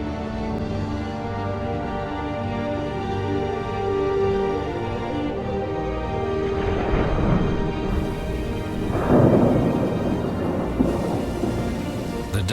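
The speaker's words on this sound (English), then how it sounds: "The downpours can be massive." A heavy thunderstorm sweeps inland over the Mongolian steppe: steady pouring rain and deep rolling thunder, with louder cracks and rumbles in the second half and a soft musical bed underneath.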